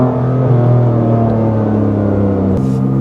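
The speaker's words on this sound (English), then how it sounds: "the exhaust. Way too loud and not tasteful loud that I like" Loud, steady drone of a Toyota Supra exhaust, a deep rumble held at constant volume for about three seconds, close up and alone with no talk.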